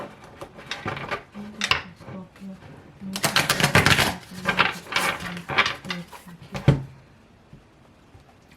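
Tarot cards being shuffled by hand during a Scorpio reading: several bursts of crisp riffling and card slaps, close and moderately loud, mixed with someone speaking.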